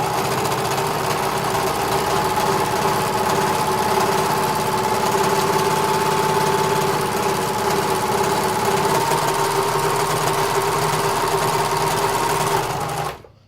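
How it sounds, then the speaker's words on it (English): A Simplicity serger runs at top speed through a scrap of fabric, giving a loud, steady mechanical whir with a constant hum that holds for about thirteen seconds before stopping abruptly. "So on my Simplicity serger, I'm gonna go at the highest speed possible."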